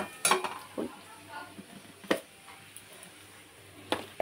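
Spices being stirred in a pan on a home kitchen stove give sparse metallic scrapes and clinks of a utensil against the pan, quiet and irregular with a few sharper knocks.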